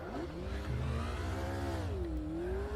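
A retro Formula race car in Automobilista at Spielberg 1974, with a clutch that is hard to keep the engine running on: a steady, close, buzzing engine note whose pitch rises, dips and rises again as it revs, with no voices.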